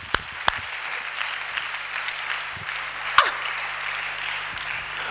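A church congregation claps in a steady, sustained wash of applause filling the room, with a few louder sharp claps and thumps standing out near the front.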